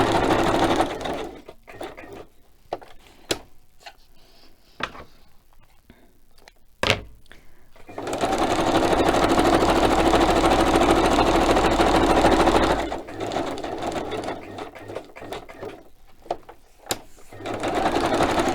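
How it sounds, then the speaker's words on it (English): Sewing machine stitching around a fabric piece without backstitching: scattered clicks and thumps give way to a long, loud continuous whirring run in the middle, then more short bursts and knocks near the end, close up with no talking. "So let's stitch around, and I think I'll start over here, and I'm not even going to back stitch."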